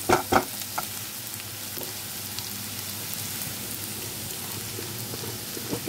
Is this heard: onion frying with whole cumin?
yes